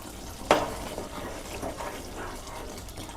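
Chicken and spice masala is stirred in a frying pan, with a close scraping clatter of utensil on pan over a soft steady sizzle, and no talking.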